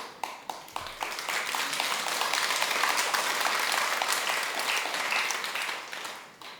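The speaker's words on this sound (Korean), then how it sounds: "더 하고 싶어도 여러분들이 박수를 쳐버려가지고 그래요" Audience at a Sunday dharma talk in a Buddhist temple bursts into applause, a few sharp early claps swelling into a steady, dense wave of clapping that holds for several seconds and then tapers off.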